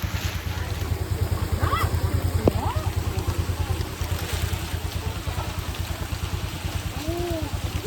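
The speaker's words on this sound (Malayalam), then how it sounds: "എന്താ നല്ല മഴയാണ് പൊള്ളി മഴയാണ്" Heavy rain pours down in a steady, loud broadband roar, with a rhythmic low throbbing running beneath it throughout.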